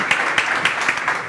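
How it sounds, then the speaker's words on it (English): An audience at a South Summit 2019 business conference talk applauds in a brief burst of clapping that fills the room. "Round of applause, please."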